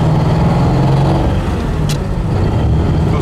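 A 1937 Ford Coupe with a 3-speed manual gearbox, converted to 12 volts, drives down the road with its engine running loud and steady throughout, a brief higher whine rising mid-way.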